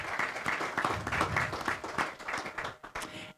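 Audience applause at a community lunch with mayors, a moderately faint burst of clapping from a roomful of people that pulses and then thins out toward the end.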